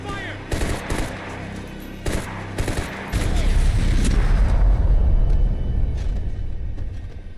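Gunfire in the Max Payne 3 video game: a few scattered sharp shots, then a dense sustained burst of automatic fire with heavy rumble, loud and close.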